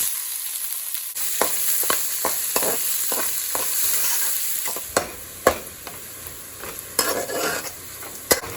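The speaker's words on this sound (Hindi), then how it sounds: "अब हम इसमें इसी ऑयल में हम ये प्याज फ्राई करेंगे" Onions sizzling and frying steadily in hot oil, with a spoon stirring and scraping the pan in irregular clinks and scrapes.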